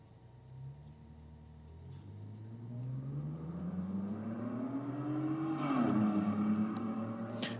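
A Ford Falcon with a 4-litre Barra engine and a Holden Statesman race at a drag strip. An engine climbs steadily in pitch as it accelerates, heard from a distance and fairly faint. There is no talk.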